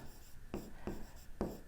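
A pen scratches across paper by hand in short, close strokes, three distinct scrapes in quick succession against a quiet room with no voice over them.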